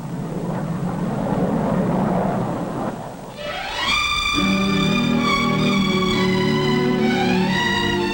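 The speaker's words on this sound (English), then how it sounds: "The first passenger jet clipper to fly the Atlantic." A 1958 passenger jet clipper airliner gives a loud, broad roar that dips briefly, then swells into a rising whine with steady piercing tones that hold to the end. No voices are heard.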